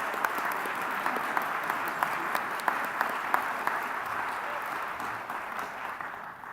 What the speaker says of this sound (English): Please give Meryl another round of applause.